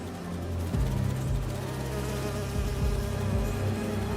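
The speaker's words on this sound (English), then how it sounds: "Do you see those little holographic bee wolves?" Holographic bee wolves in the Spider-Man 2 video game buzz steadily with an insect-like drone, with a few swooping passes rising and falling over a continuous game backdrop.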